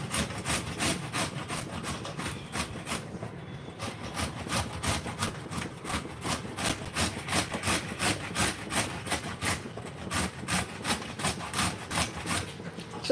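Carrots are grated by hand for halwa in a quick, regular rasping rhythm of scraping strokes. The strokes repeat steadily and sound close.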